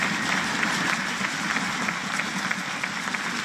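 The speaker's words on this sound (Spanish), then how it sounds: "a quien le pido un fuerte aplauso en el sonido" A live audience at a drum circle concert recording applauds the sound engineer, a steady, fairly loud burst of many hands clapping that holds throughout, with crowd murmur mixed in.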